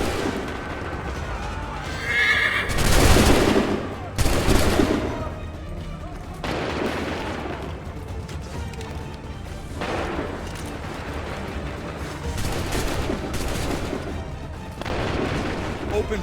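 A volley of gunfire on a battlefield, with a heavy burst of shots early on followed by repeated loud blasts at intervals, mixed with horse whinnies and shouting voices.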